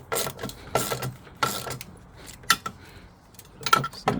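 Ratchet snugging a screw back in during a SuperJet jet ski teardown: several short bursts of quick ratcheting clicks with pauses between, close and fairly loud, no talking.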